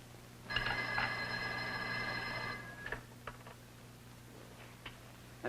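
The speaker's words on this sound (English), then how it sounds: "Ruth! Ruth, don't you hear the phone?" An old telephone bell rings once in a single two-second burst, fairly clear in a quiet room, followed by faint clicks and small handling sounds.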